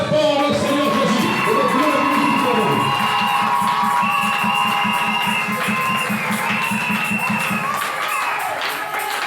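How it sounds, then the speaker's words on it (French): A church congregation cheering and shouting loudly for the Lord Jesus, a dense continuous roar of voices with whoops and high cries, steady throughout, with an instrumental tone underneath. "Acclame très fort le Seigneur Jésus."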